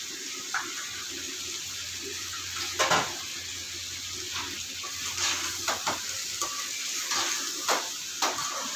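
Tomatoes and salt frying in a pan for a chicken curry, a soft hissing sizzle with scattered clicks and scrapes of a spoon against the pan, close and quiet, no talking.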